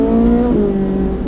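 A Ferrari 458 Italia engine revs hard and loud in a brief burst, its pitch dropping slightly as the throttle eases, heard up close with no one speaking.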